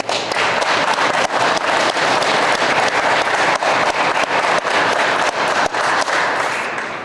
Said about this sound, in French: j'aimerais ça qu'on donne une bonne main d'applaudissement aux employés de Sainte-Terre